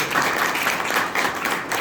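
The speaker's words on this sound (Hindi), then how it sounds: "इनके सम्मान में तो ताली बजाओगे।" Steady applause from an audience at a Hindi kavi sammelan poetry gathering, dense clapping sustained evenly throughout with no pauses.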